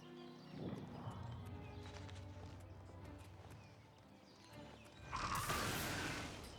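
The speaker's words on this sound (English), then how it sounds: "That is a beautiful horse. Just black horse." Hooves of a black horse clip-clop in Oblivion Remastered, a steady run of hoof beats joined by other game sounds, with a brighter burst near the end.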